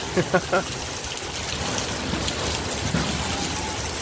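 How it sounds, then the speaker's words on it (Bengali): Heavy out-of-season rain pours in Saudi Arabia as a steady, dense hiss of falling water, with a few short voiced sounds near the start. "এইখানেও দেখেন বৃষ্টি আসছে, শুধু বৃষ্টি আসতেছে, অনেক বৃষ্টি।"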